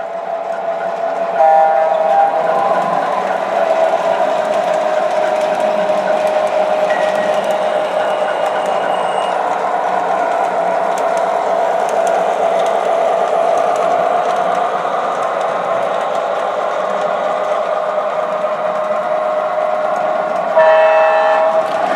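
Two MTH Proto 3 O gauge model diesel trains running on a small loop, a steady close mechanical hum and rumble throughout, with short horn toots near the start and end.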